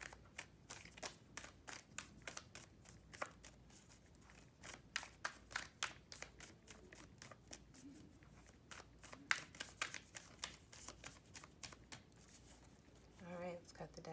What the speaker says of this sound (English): Let's finish shuffling there.